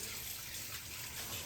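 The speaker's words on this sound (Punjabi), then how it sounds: "2 ਤੋਂ 3 ਪਾਣੀ ਪਹਿਲੇ ਧੋ ਲਈਏ" Close, continuous gushing of water as raw fish is washed by hand before marinating for grilling, a steady splashing flow without talk.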